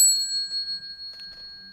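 A single bell is struck at a Buddhist lecture gathering to open the bell song, ringing with a bright, sustained tone that lingers and slowly fades over background murmurs, with no one talking over it.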